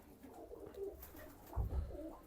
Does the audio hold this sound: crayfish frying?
no